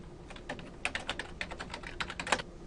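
Quick, irregular keystrokes on a computer keyboard, close and clear, arriving in uneven bursts with no talking.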